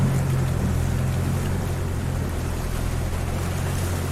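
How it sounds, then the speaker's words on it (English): A boat engine drones as a steady low rumble mixed with water and wind noise, holding a constant loud level. "The engine roared as Lizard spun the Orion around"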